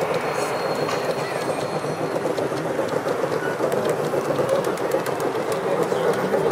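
A gauge 1 (1:32 scale) model railway train rolls along the track at a model railway meeting inside a transport museum hall, a continuous loud rumble with rhythmic wheel clicks and faint squeals over busy background.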